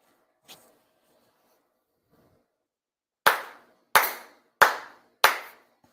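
Four sharp, ceremonial hand claps at a Shinto monthly ceremony, evenly spaced and loud in a quiet room, each with a short decaying echo, following a faint earlier knock.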